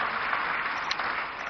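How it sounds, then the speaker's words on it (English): An audience applauds a panel at a national economic dialogue, a dense, even wash of clapping from many hands that holds steady throughout, with no voices over it. "I think the panel deserves a round of applause. Let's put our hands together for them."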